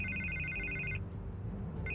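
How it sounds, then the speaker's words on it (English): A telephone rings in a Batman video game, a bright electronic trill heard twice with a pause between, moderately faint over a low background hum. "I can't get the phone to stop ringing."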